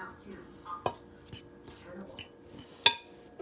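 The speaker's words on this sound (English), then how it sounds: "Okay, and then I'm going to give that a stir." A spoon stirring mackerel patty mixture in a bowl, with a few sharp clinks of metal against the dish spaced irregularly between soft, squishy scraping, close and fairly quiet.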